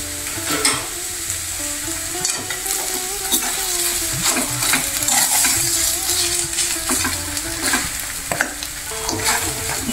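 A spoon stirring dosa batter with salt in a bowl, giving steady close scraping and clinking strokes in an irregular rhythm, alone with no talk.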